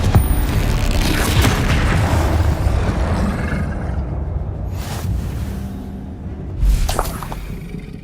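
Booming combat blasts from Hogwarts Legacy, including the Confringo explosive spell, as a loud rumbling roar that eases off and is followed by a fresh heavy burst near the end, with no talking.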